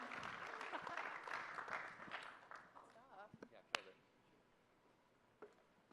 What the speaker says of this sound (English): So a huge round of applause and thank you to ENS and everyone here for all the builders